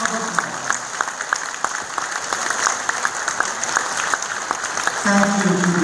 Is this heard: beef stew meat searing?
no